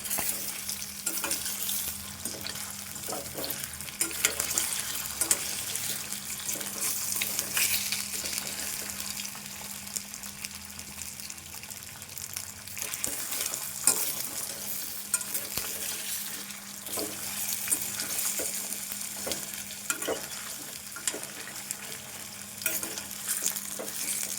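Potato fry crackles in hot oil for the whole stretch, a steady sizzle with occasional scraping stirs of a spatula through the pan.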